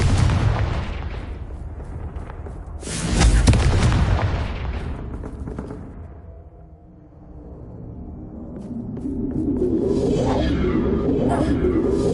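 Explosions from the Confringo blasting spell in the video game Hogwarts Legacy: heavy, booming bursts with a sharp loud blast near the start and rumbling blasts that rise again toward the end.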